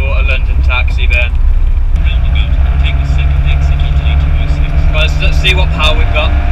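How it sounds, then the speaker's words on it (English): A London taxi's engine drones steadily and loudly while driving, a low hum with a rising, shifting tone, as people talk over it in the cab. "I can't believe we've just bought a London taxi, Ben."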